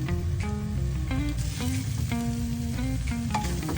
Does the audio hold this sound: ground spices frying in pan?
yes